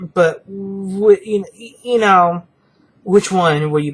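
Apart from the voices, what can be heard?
No everyday noises stand out.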